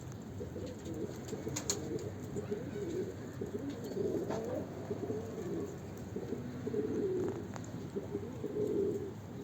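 Pigeons coo steadily in a coop, a dense chorus of low, rolling burbles layered close together with a few sharper wingbeat or scuffle sounds, continuous and moderately quiet throughout.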